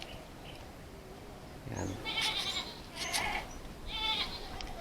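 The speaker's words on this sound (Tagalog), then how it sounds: "Yung mga kambing sa silong," Goats kept in the space under a house bleat three times in a row, loud and fairly close, each a short wavering cry, with a person speaking quietly between them.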